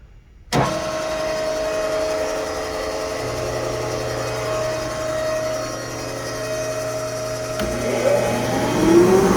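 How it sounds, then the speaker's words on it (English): A vacuum and a sump pump on a Nitta Diamond skiver setup switch on abruptly and settle into a steady, loud mechanical hum with a constant tonal whine, and a second motor joins partway through. "to turn this on first, our vacuum, and then I also have to plug in our sump pump the second I turn it on"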